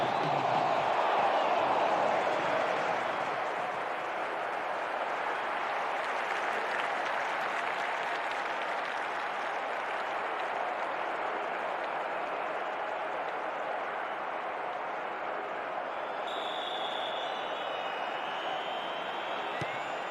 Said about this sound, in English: The crowd close to the pitch makes for a good atmosphere.